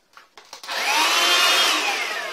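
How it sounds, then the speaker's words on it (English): A vacuum cleaner starts after a few faint clicks and rises into a loud, steady whine with a rushing airflow that runs on close and unbroken. "A vacuum cleaner."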